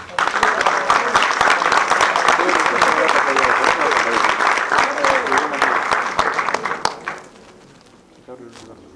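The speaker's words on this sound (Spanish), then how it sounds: "Démosle un fuerte aplauso." Strong audience applause welcoming a speaker at a planetarium conference, dense and loud for about seven seconds before quickly dying away to a few scattered claps and near quiet.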